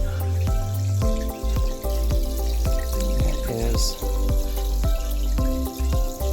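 Aquarium CO2 diffuser in a 15-gallon nano tank: steady stream of fine bubbling and trickling water with small regular pops, close by; a voice briefly speaks over it.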